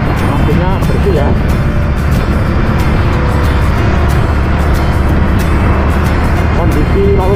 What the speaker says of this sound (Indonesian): Kondisi lalu lintas lumayan ramai teman-teman, banyak sekali mobil.